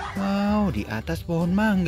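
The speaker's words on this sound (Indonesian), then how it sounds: "Wah, ada anak ayam di sana." Chickens forage nearby with a short burst of loud clucking and honking fowl calls, while a person speaks excitedly over them.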